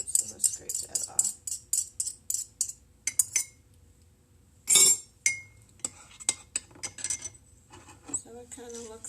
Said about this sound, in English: My egg kind of stuck to it, so let's scrape that off